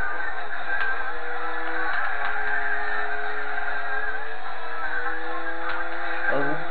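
Car engine in Gran Turismo 4 accelerating steadily, a continuous rising engine whine with gear-like tonal steps, moderately loud and alone with no talk.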